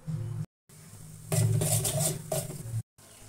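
Cumin and other tempering spices sizzle in hot oil for an amti, a bright crackling hiss that comes in short bursts separated by abrupt silent cuts, with a low steady hum underneath.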